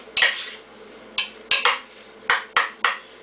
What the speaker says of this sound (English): Mix the spinach through